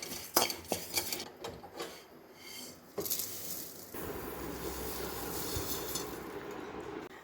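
Roasted gram, white sesame and flattened rice are dry-roasted in a pan and stirred, giving faint scraping, rustling and clinking of a spoon against metal, with sharper knocks at first and then continuous quiet stirring.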